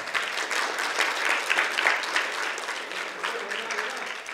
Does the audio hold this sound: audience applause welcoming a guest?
yes